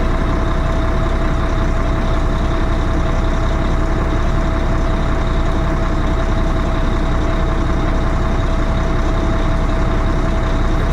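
A Peterbilt 386 truck's diesel engine runs cold, a loud, steady, low rumble with a constant tonal hum that holds unchanged for the whole stretch, with no voices.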